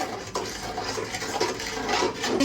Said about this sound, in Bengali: শিরা বানানোর জন্য পানি দিয়ে দিয়েছি।